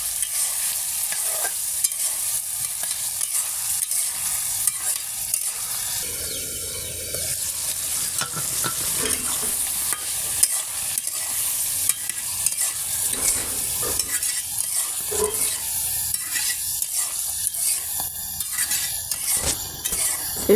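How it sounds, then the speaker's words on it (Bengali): Quail meat stirred and fried in a pan with a little water, continuous loud sizzling and scraping from a spatula, with occasional clinks of utensil against the pot. "এরকম করে বেশ কিছু সময় মাংসটাকে ভালো করে ভাজা ভাজা করে কষাবো।"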